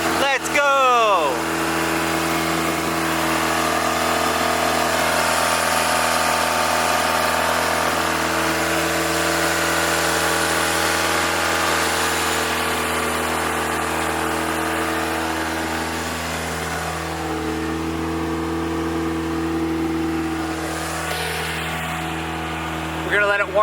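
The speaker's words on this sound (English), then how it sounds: "I started it up. It's loud." A Toyota MR2 Turbo with a 2ZZ engine cranks, starts and settles into a loud, steady idle with a constant low drone, while people talk and cheer over it.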